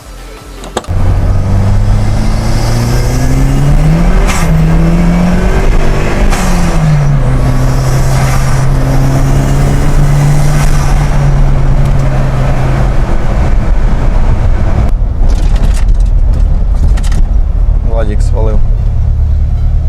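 Steady engine hum of a turbocharged BMW E21 with a gliding tone as the car drives and shifts, loud and close throughout, with occasional knocks and bumps.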